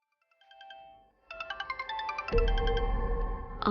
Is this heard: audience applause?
no